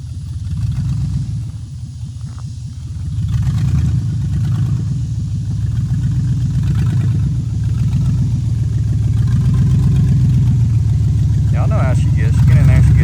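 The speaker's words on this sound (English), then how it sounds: "She can't know that that's how the exhaust is supposed to sound." A crew cab pickup truck on 38-inch tires revs, its engine rumbling with a deep throaty exhaust note, while people talk over it throughout.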